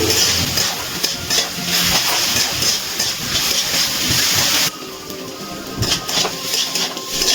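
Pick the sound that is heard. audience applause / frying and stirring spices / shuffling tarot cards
frying and stirring spices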